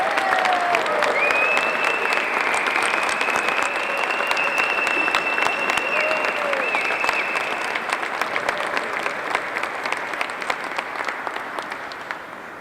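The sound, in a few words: audience applause at airport runway re-dedication ceremony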